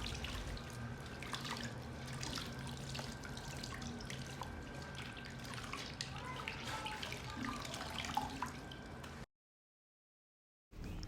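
Warm fermented akamu (pap) liquid strains and is squeezed through cheesecloth, a steady close trickle and dribble of watery liquid lasting several seconds before cutting off briefly.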